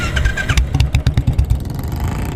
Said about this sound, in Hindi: अपनी बाइक स्टार्ट करके घर की ओर मुड़ जाता है।